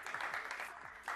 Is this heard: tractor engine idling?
no